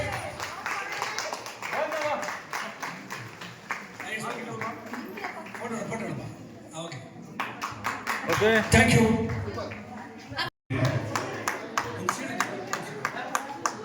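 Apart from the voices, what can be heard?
audience applause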